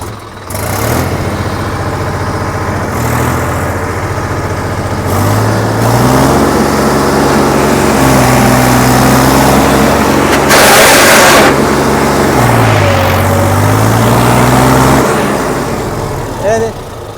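A loud tractor engine revs up and down repeatedly, its pitch rising and falling in long swells, with occasional voices in the background.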